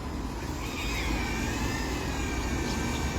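Drone flying overhead under a cloudy sky, a continuous even whirring drone with a faint high whine drifting slightly, steady throughout.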